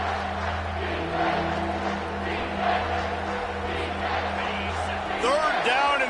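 A stadium crowd roars in a College Football 25 video game on third down: steady, dense cheering throughout, with a commentator talking over it.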